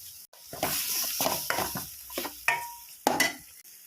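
Cumin and coriander powder fry in a pan for a taro (kochu) curry, with several short scraping stirs over a soft sizzle, close and fairly loud, without speech.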